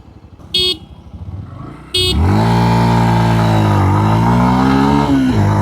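Yamaha FZ Rave motorcycle pulling hard from a standstill toward 100, its engine note rising loud and close with steady rising harmonics, after two short horn-like beeps at the start.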